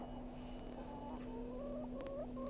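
A rooster in the Hob's Barrow adventure game clucks in a few short, rising calls over a steady low hum, faint and alone, with no talking.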